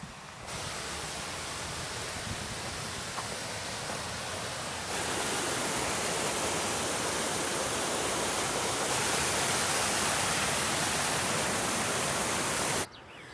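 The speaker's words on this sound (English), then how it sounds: "Wow, look at those waterfalls." France's highest waterfall, a loud, dense, continuous roar of falling water close by that grows slightly stronger partway through and runs without letup.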